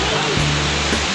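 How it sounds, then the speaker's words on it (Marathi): Dense, steady roar of heavy rain near the Napne waterfall in Konkan, Maharashtra, a close, loud wash of water with a faint voice briefly under it. "पाऊस पण लागता भरपूर"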